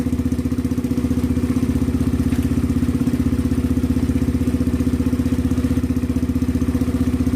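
A Yamaha TW 125cc motorcycle engine idles steadily and loudly close by, a dense rapid mechanical putter with light clatter and no talk throughout.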